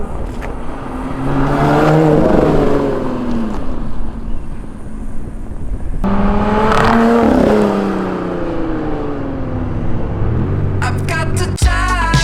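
A Lotus mid-engine sports car accelerates hard on open Las Vegas roads, its engine note climbing loudly through two long revving pulls with a brief shift drop between them, then settling to a lower rumble.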